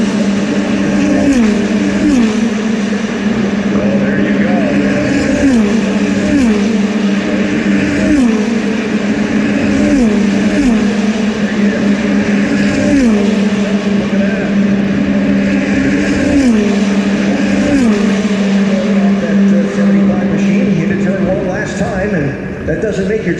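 Indy NXT open-wheel race cars on the road course at the GMR Grand Prix, coming off turn 11 into 12, their engine notes rising and falling in repeated sweeps as cars pass one after another, under a steady wash of voices.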